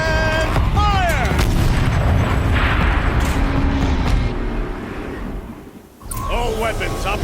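A turret fires in the video game Horizon Zero Dawn, a heavy booming blast with rumbling debris and mechanical whirs. Voices talk over the noise.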